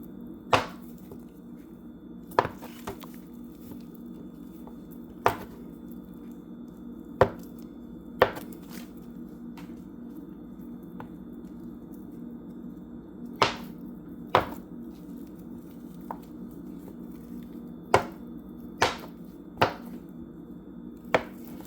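A knife chops Land O'Lakes salted butter into small pieces on a board, about a dozen sharp, isolated knocks spaced irregularly over a low steady background hum, fairly close and clear.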